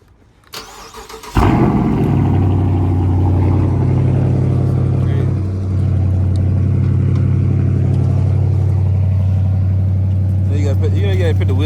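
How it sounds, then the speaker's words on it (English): A car engine cold-starts early in the morning: a brief crank, then it catches with a loud surge and settles into a steady, heavy, low idle close by. "So we got a little cold start."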